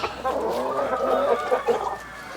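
Sultan chickens clucking at feeding time in a coop, a busy cluster of close clucks and squawks from several birds, fairly loud and uneven, with no talk.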